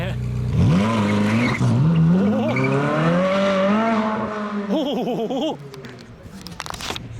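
A car engine revs hard while drifting in a mall parking lot, tires squealing in long wavering screeches, loud and close, before the noise drops away to a lighter rumble.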